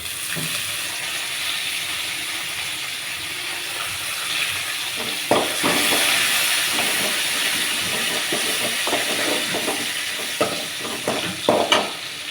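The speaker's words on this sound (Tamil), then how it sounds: "இப்போ இதில் வந்து நம்ம கருவேப்பிலையை சேர்த்துக்கலாம்" Curry leaves dropped into hot oil while making thavalai adai batter tempering, a loud steady hissing sizzle with crackling bursts and a few stirring clatters toward the end.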